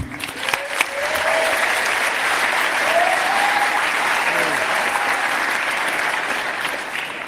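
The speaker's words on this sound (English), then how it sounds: "if you could give him a quick round of applause before he introduces everybody" Loud, sustained audience applause fills a crowded conference hall before a panel on hacking is introduced, with a few whistles or cheers rising briefly out of the steady wash of clapping.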